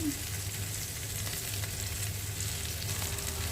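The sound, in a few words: meat sautéing in butter with spices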